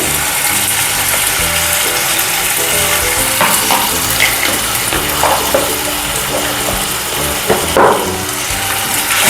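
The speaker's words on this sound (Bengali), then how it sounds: "খুব ভালো করে আমি একটু কষিয়ে নিচ্ছি হলুদ দিচ্ছি আর ধনে গুঁড়ো" Ginger paste sizzles steadily in hot oil as turmeric and coriander powder are stirred in for a Bengali fish curry, with occasional clinks and scrapes of a spoon over the constant frying hiss.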